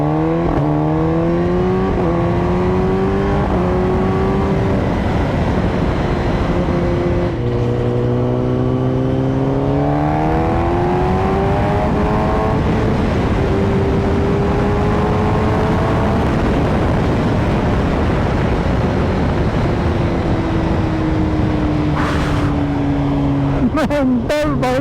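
A Kawasaki ZX-10R sport motorcycle on a test ride, its engine loud and close throughout, climbing through the gears in repeated rising pitch sweeps, with a steady high whine and wind roar beneath.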